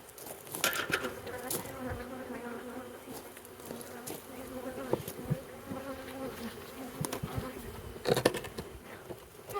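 Bees buzz steadily and close while a beehive is opened for inspection, with a busy insect drone, scattered clicks and knocks from handling, and a louder surge near the end.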